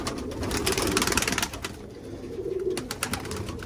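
Pigeons cooing close by after a flight on a windy day, a dense run of throaty coos and rustling, fading briefly midway before picking up again.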